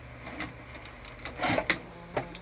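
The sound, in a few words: sewing machine top stitching a crossbody bag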